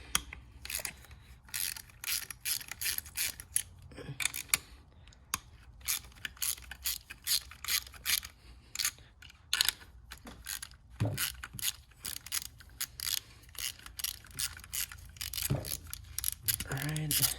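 A ratchet works repeatedly in quick clicking bursts, loosening ignition coil bolts on an Audi S3 engine, close and fairly loud, with brief pauses between runs.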